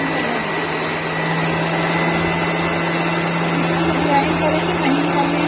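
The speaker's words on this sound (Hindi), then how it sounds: "मिक्सी में ग्राइंड कर" A mixer grinder grinds lotus stem (nadru), a loud, steady, high-pitched whirring motor whine that runs continuously throughout.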